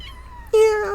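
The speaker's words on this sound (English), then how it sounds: "And this cat. This little cat." A small cat gives one clear, fairly loud meow partway through, preceded by a quieter tonal sound and room hum.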